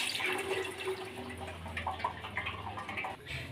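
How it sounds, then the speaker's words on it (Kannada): Cold water pours over boiled penne pasta being rinsed in a strainer, a steady running, splashing flow that continues throughout. "ತಣ್ಣೀರಲ್ಲಿ ಒಂದ್ಸಲ ತೊಳ್ಕೊಬೇಕು"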